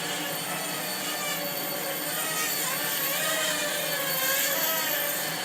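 A Heli-Max 1SQ toy quadcopter flies outdoors on a breezy day, making a constant high buzzing whir whose pitch wavers slightly as it moves, steady and moderately loud throughout.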